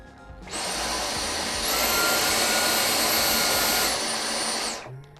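A Dyson Omni-glide cordless vacuum cleaner switches on and runs with a loud, steady high-pitched whine, rising briefly in power midway, then shuts off and winds down.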